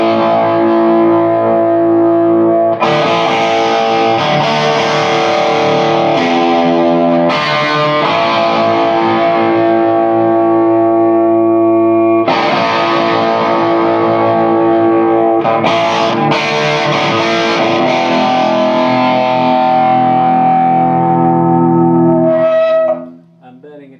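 Electric guitar played through a Weber 6H50 amplifier set just under half volume, loud distorted sustained chords ringing in long phrases with brief breaks, cutting off abruptly at the end.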